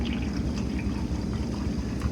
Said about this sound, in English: when you first pour the soda in, it fizzes up